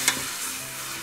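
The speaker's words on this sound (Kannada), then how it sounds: "ಲೀಸ್ಟ್ ಒಂದು 1/2 ದಿಂದ 1 ನಿಮಿಷದಷ್ಟು ಫ್ರೈ ಮಾಡ್ಕೊಬೇಕು ಒಗ್ಗರಣೆಲಿ" Mutton pieces and onion fry with turmeric in a hot tempering, giving a close, bright, steady sizzle. A quick clink of stirring comes at the start of the brief moment.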